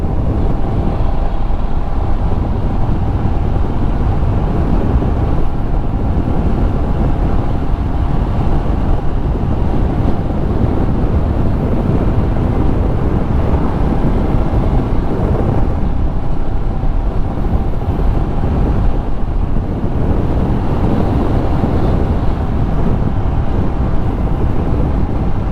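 Royal Enfield Scram 411 motorcycle cruising steadily in one gear on a test ride, a continuous loud engine drone mixed with heavy wind rush against the microphone, no shifting and no voices.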